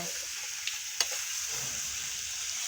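Chicken frying in a pan on a small home stove, a steady close hiss of sizzling oil with a couple of faint ticks and crackles popping out of it.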